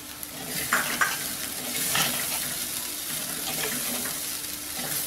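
Poha upma frying in a pan as green peas are added, with steady sizzling and a few clinks and stirring scrapes close by throughout.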